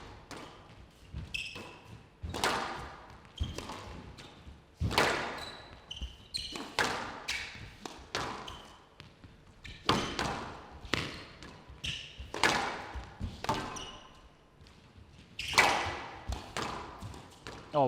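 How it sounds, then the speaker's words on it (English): A squash ball is struck again and again by rackets in a fast professional rally, including a quick reaction volley, giving a run of sharp, fairly close thwacks and wall bounces in uneven rhythm, some louder than others. "That's an unbelievable shot there from Marche, reaction volley."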